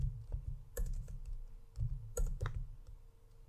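A DAX formula typed on a computer keyboard, quiet irregular key clicks in short bursts with a couple of sharper taps, close by, with no talking.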